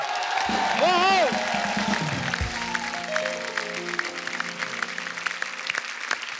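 An audience on a comedy show set applauds and cheers, steady clapping filling the whole stretch while a short sung or voiced phrase rises over it near the start.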